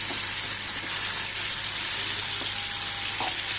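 Chicken pieces deep-frying in oil in a small pan give a steady, dense sizzle that holds at an even level throughout with no talk.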